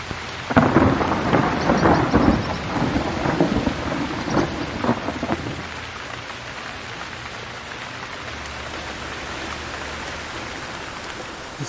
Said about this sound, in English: there's a thunderstorm at the moment